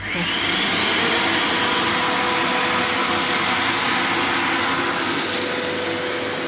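A household vacuum cleaner runs steadily throughout while a house is being cleaned, a loud continuous whooshing drone with a faint high whine, close by and with no talk over it.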